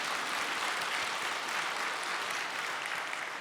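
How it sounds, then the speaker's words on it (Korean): Applause from a church congregation, a faint, even hiss of many distant hands clapping together that carries on for a few seconds. "예, 박수 치고 싶으시죠?"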